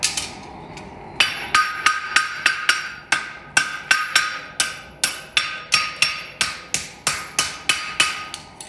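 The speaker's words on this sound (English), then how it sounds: "set the toe bend so that last nail hole's in contact with the anvil, and I'm just going to hit approximately where the clip's going to go" A hammer rings repeatedly on a horseshoe toe against an anvil, a quick metallic series of bright strikes after a softer start, close and clear.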